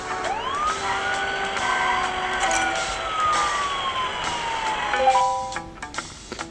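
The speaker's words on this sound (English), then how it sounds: "The ambulance is on its way to the Beck's house" Ambulance siren in the Does Not Commute mobile driving game: a loud wailing tone rises, then sweeps slowly downward over several seconds over engine noise, fading out near the end, with no talking.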